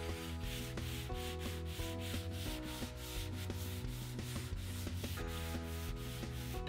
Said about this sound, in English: So I've got 220 on a sanding sponge.